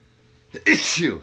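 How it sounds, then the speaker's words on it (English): A single sharp sneeze bursts out close by, a short breathy intake followed by a loud explosive release. "Sneeze, sorry about that."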